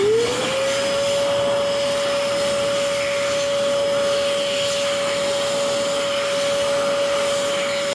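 Verde Dry hand dryer spinning up quickly, then holding a loud, steady whine over rushing air for several seconds, close and uninterrupted.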